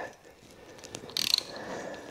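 A ratchet clicks through a short burst of rapid pawl ticks as it turns a T30 Torx bolt on Can-Am Maverick X3 brakes, close and fairly quiet.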